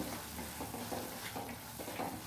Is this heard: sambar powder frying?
yes